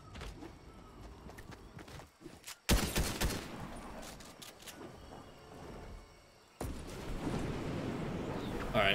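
Gunfire rattles through a Fortnite match in loud bursts of rapid shots with short gaps between volleys, under a player's speech.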